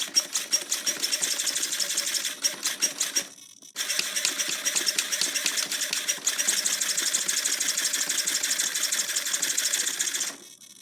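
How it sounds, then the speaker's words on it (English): A new steering servo on a Losi 8ight T RC truck, running on 7.4 volts, whirs in rapid high-pitched buzzing bursts, pausing briefly once before continuing, close and fairly loud with no talk. "Here it is with the new steering servo."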